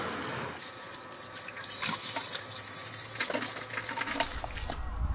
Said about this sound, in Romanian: Aici am băgat 1 euro și ne-am umplut sticlele de apă